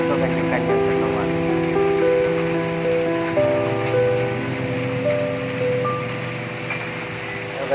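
Steady rain pattering on surfaces at a roadside in front of a jeep, a continuous hiss with tonal background sounds and a voice talking over it.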